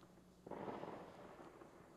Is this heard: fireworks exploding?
yes